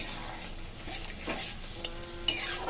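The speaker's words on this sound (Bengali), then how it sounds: "এটাকে ভালো করে কষিয়ে নিতে হবে।" Hyderabadi chicken masala with salt is stirred and sautéed in a pan, giving a soft, continuous scraping and sizzling close by with a few light clinks of the spoon.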